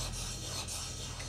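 A chisel honed back and forth on a sharpening stone, a faint, steady rubbing rasp heard close and alone for a moment.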